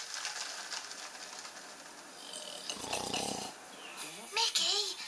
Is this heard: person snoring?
yes